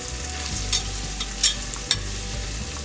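Garam masala and dry spice powders frying in hot oil while being stirred, a steady close sizzle broken by three or four sharp scrapes of the spoon against the pan, no voices.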